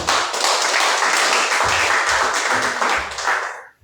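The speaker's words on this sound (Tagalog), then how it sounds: "Isa po malakas na palakpak sa Panginoon" A church congregation at Sunday worship claps loudly for several seconds, a dense crowd applause that fades out abruptly at the end.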